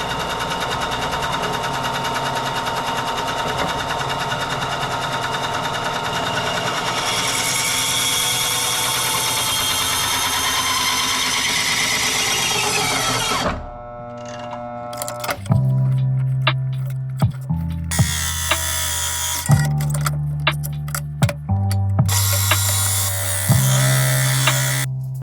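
Bandsaw trimming a custom knife, giving off a loud, steady whirring rush for about thirteen seconds before cutting out, followed by a series of sharp clicks and knocks.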